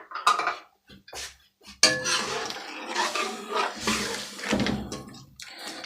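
A metal spoon stirs and scrapes inside a cooking pot while making achar gosht, close irregular clinks and scraping clatter in short bursts, with no talk.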